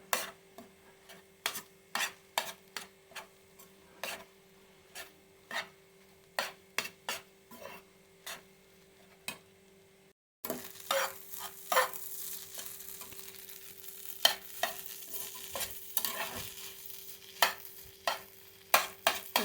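Crumbled idli is stirred into an egg mixture in a pan, making repeated rhythmic scraping taps of a utensil, first sparse and dry, then over a louder continuous sizzle as frying picks up.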